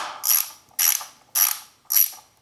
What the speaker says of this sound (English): You can reinstall the nut on the bottom side and tighten it up.